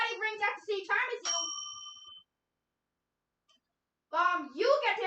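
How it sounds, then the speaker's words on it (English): A bell rings once, bright and clear, to buzz in during a children's quiz game, with its tone ringing out for about a second. Someone speaks before it, and another voice speaks after a pause. "Ring in your bell."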